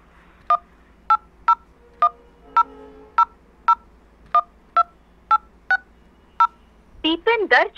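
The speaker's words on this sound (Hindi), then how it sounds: "चलिए अकाउंट नंबर यहाँ पर हम डायल कर लेते हैं।" A phone keypad dials a bank account number into a Bank of Baroda automated phone line, producing a dozen evenly spaced, clear DTMF beeps, followed by the start of a recorded voice prompt.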